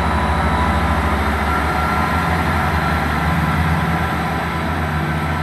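Class 158 diesel unit 158958 pulls out of Great Malvern station on a service to Bristol Temple Meads, its engine giving a steady, loud low rumble and drone throughout, with no talking.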